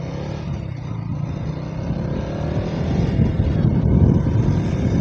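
KTM Duke 200 motorcycle pulling away, a loud continuous engine drone that builds slightly in intensity as it accelerates, heard up close with wind-like roughness.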